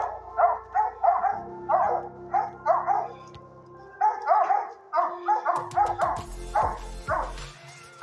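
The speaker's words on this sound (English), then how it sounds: "This is a video of these dogs up here." A hunting dog barks repeatedly in quick bursts, joined by more barking and yipping from other hunting dogs, loud and close outdoors.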